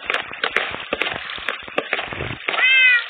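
A cat in a Minecraft-style blocky video game farm meows near the end, following a run of sharp clicking and chopping game sounds, loud and close with no speech over it.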